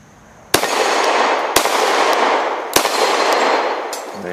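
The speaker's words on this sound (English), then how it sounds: "A couple of those plates don't have a blemish yet" A Glock 27 Gen 4 pistol fires three loud, widely spaced shots at steel plates outdoors, each crack followed by a long reverberating wash.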